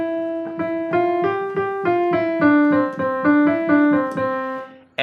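A major-key melody played as a run of evenly spaced plucked or keyboard-like notes, bright and clear, climbing and settling over a steady pulse with no voices.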